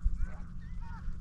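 Geese wintering by a lake honk briefly, a short cluster of faint nasal calls over low background rumble.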